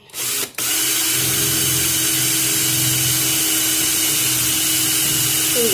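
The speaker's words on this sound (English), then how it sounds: "I'm gonna drill that first hole" Power drill boring a hole through the gel coat of a fibreglass Freedom caravan storage box, a steady loud whine running without pause after a short start-up burst.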